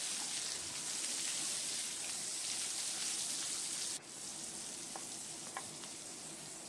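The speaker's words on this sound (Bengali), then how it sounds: "এবার আলু আর পটলটা ভেজে নেব।" Potato and pointed gourd pieces frying in oil make a soft, even sizzling hiss throughout, which drops slightly partway through and has a couple of faint pops near the end.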